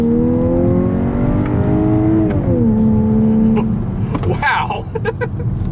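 A 2025 Volkswagen Atlas three-row SUV accelerates hard with paddle shifters holding the gear, its engine note climbing steadily in pitch, then easing as the revs drop and settle. A brief rustle follows near the end, and a voice speaks over the engine.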